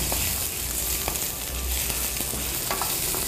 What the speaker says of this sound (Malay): Kemudian anda masukkan hirisan bawang putih. Anda boleh kacau sebentar sehingga bawang mulai menggaring